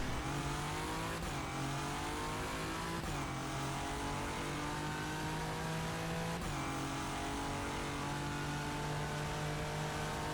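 A race car engine in rFactor 2 at a Le Mans practice session drones steadily at high revs, with brief dips at each gear change, loud and continuous with no talk.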